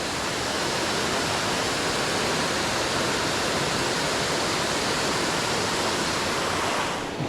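A mountain waterfall in North Carolina trout country roars as a loud, unbroken wash of rushing water, close and constant for several seconds with no talking, easing slightly at the very end.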